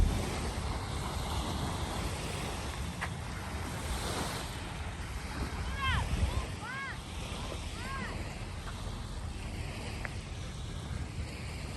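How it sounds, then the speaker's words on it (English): Waves washing ashore at Golden Gardens Park beach in Seattle, a steady faint surf hiss with wind noise on the microphone, and a few gull-like chirps midway, no talking. "I figured I would share from the beach here in Seattle, one of our beaches"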